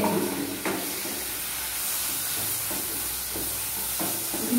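Fried potatoes frying in a pan for soyabean and egg curry, giving a constant hissing sizzle with a few soft scraping stirs and clinks and no talking.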